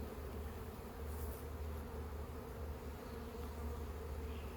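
Honeybees buzz steadily around an open hive during a late-April inspection, a dense, continuous drone at close range, low in level and with no talking.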